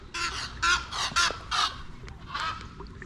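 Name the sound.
birds honking near fishing boat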